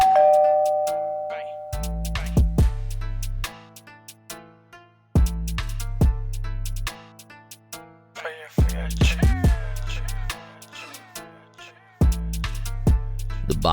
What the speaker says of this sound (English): I hear the bell ring and I go outside to check it out